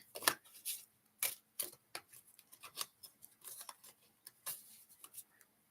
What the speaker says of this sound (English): Everything is shuffled. I'm just going to keep shuffling.